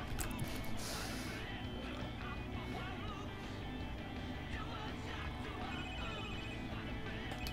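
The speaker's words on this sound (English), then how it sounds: "I want to answer the phone" A telephone rings inside The Sims 3 life-simulation game, repeating steadily across the stretch amid busy game music and ambient effects, with a voice speaking over parts of it.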